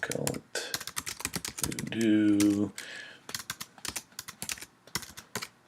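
Quick, irregular keystrokes on a computer keyboard, typed into a Google Docs document, clatter close by while a person speaks over and between the taps.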